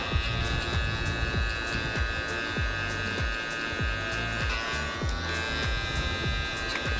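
Hair clippers with a half guard and the lever open buzz steadily and close by while cutting hair in a barbershop mullet-to-brushback cut, with repeated quick flicking strokes under the constant hum.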